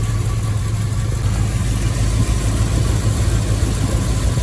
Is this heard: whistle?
no